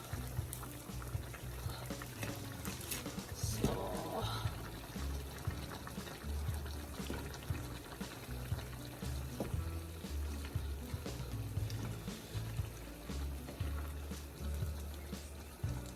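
Glass noodles for Pancit Sotanghon cooking in a pot of boiling water, a faint continuous bubbling and simmering with occasional small splashes.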